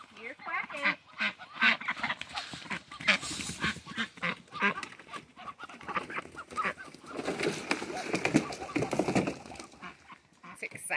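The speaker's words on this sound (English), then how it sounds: "You're quacking." Busy barnyard chorus of ducks quacking repeatedly at close range, mixed with other fowl calls and some voices.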